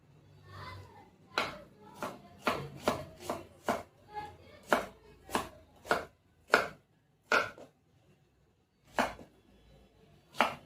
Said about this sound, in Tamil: வெங்காயத்தை நல்லா பொடிச்சு வெட்டி போட்டுக்கோங்க